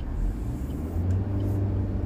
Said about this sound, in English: Nice little bit of engine revs as we come through here